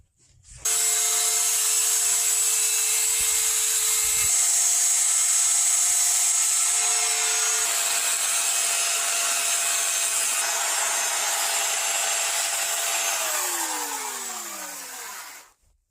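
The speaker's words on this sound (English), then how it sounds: "I'm going to grab the chainsaw and see if I can level out the wall just a little bit" A chainsaw cuts into a straw bale wall to level off high spots, its loud steady buzz running close for about fifteen seconds before the engine winds down at the end.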